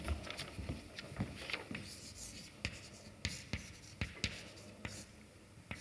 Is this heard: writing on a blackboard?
yes